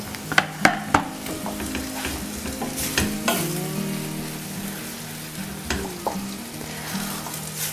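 Chopped tomatoes sizzle and fry in a pan for shakshuka, with a utensil stirring and scraping in several distinct strokes over a steady, close frying hiss; no one speaks.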